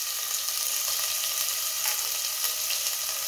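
Finely chopped onion sizzles in a hot pan for dal khichdi, a steady loud crackling fry that carries throughout with small bursts of spattering, close and without talk.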